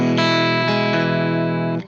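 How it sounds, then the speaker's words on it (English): A sustained Fender Jazzmaster electric guitar chord through an Allen Accomplice Jr. tube amp rings out loud and full with warm, slightly driven tone, restruck a couple of times before being cut off abruptly. "I'm playing my Jazzmaster through an Allen Accomplice Jr., basically a deluxe reverb"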